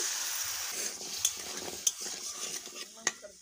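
Potatoes tossed with turmeric powder get stirred in a pan for a Bengali potato dish, a soft steady sizzle of frying under scraping strokes, with three sharp clicks of the spoon against the pan.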